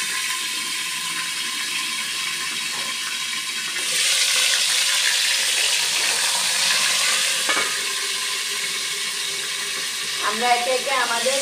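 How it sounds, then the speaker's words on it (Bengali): Fish and pumpkin-leaf fritters drop into hot oil and sizzle steadily, the hiss jumping louder partway through as more batter goes in, with faint clinks near the end. "তো গরম তেলে দিলে পরে এটা ফুটে আসে।"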